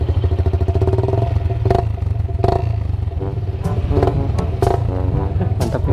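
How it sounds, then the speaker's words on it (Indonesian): Yamaha MX King motorcycle with a bored-out modified exhaust, a loud, close, steady throbbing engine drone with a few brief revving surges and some mechanical clatter, no talking. "jadi untuk knalpotnya ini teh gue pakai knalpot yang bobokan"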